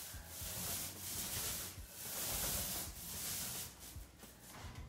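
A paint roller drawn in horizontal strokes across a ceiling gives a soft, steady rubbing sound in long close passes with brief pauses between them and no talking.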